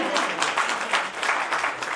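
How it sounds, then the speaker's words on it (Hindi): An audience at an annual poetry gathering claps together in an even, sustained burst of applause. "जोरदार ताली।"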